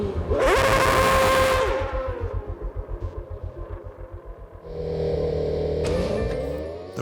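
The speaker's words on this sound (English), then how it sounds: "David deliberately spins his rear tyres to make them hotter and stickier" Formula 1 car on the grid before a race start spinning its rear tyres, a loud rasping engine burst that drops into a pulsing low rumble, then surges again near the end.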